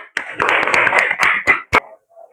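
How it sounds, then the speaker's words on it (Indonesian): Students in a classroom clap for a classmate: a short burst of close, crisp applause that thins into a few separate claps, then stops. "Beri tepuk tangan kepada Akbar."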